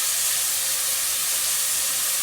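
Onions, ginger and garlic sautéing in a pan, a steady loud sizzling hiss running throughout without any change, close and alone with no voices.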